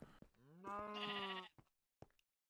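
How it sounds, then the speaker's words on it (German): A single sheep in the Minecraft video game bleats once, a nasal wavering baa heard clearly and alone, followed by a brief soft click. "Oh! Ein Schaf."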